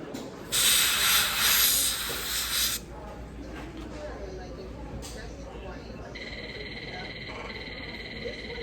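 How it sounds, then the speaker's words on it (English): A loud hissing burst of spray from a spray bottle, lasting about two seconds, followed by quieter room noise and a faint high tone. "I'm gonna spray a little bit of here."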